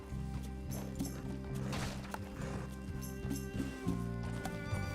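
Rhythmic clip-clop of horse hooves trotting along in Red Dead Redemption 2 over a steady musical backing.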